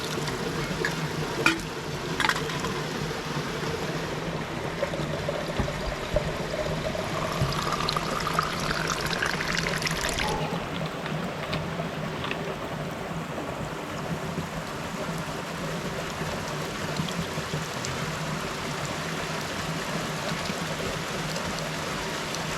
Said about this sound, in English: we've made it to the little spring, so Time to fill up our bottle.